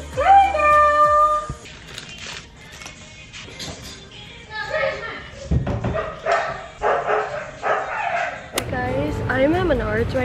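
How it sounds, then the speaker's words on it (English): Several dogs whimper, yip and howl close by in a house under renovation, with a long drawn-out howl near the end. A person talks over the dogs at several points. "we got too many dogs"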